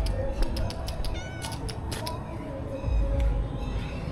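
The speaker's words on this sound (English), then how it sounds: "There is a cat." A cat meows faintly amid noisy outdoor ambience beside an old building on the Fergusson College campus in Pune, with scattered clicks and steady background rumble.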